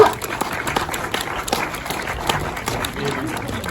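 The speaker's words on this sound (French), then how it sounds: "je vous demande de faire un tonnerre d'applaudissements pour Damien Bertrand" Audience applause in a lecture hall at an evening film class, a steady dense patter of many hands clapping with some crowd noise throughout.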